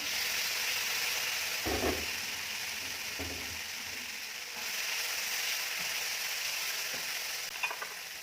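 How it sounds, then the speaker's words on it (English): Tomato, chili and oyster sauces sizzle in raisin fried rice with anchovies and tempeh, a steady hissing fry broken by a few scraping stirs of the spatula. "And then tomato sauce, chili sauce, and oyster sauce. Add them all."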